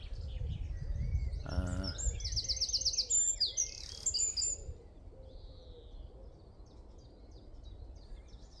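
Small songbird with a short stubby tail calling in a sunny morning wood: a burst of clear, fast chirps and trills near the start, then thinner, fainter calls scattered across the rest, over low outdoor rumble.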